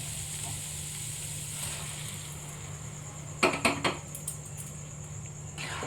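Chhola dal goes into hot oil with bay leaves in a pan, giving a steady, even sizzle, with a quick cluster of metallic clinks partway through.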